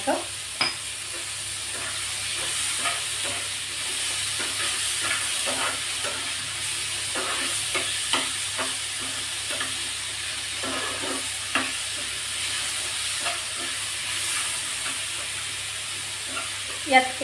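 Tomato and onion frying in a pan with a little salt for prawn masala, a steady soft sizzle broken by scattered clicks of stirring, with someone talking over it.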